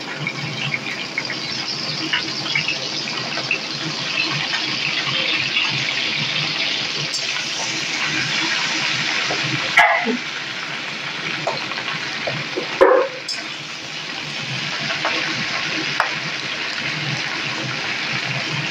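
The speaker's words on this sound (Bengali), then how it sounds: "এখন আমি এর মধ্যে শাকগুলো যে ধুয়ে রেখেছিলাম সেই পুঁই শাকগুলোকে দিয়ে দেব।" Washed pui greens (Malabar spinach) hit a hot pan for a Bengali chorchori and fry with a steady, close hiss and sizzle that runs throughout, broken by a couple of brief clatters as the greens are stirred; no talking.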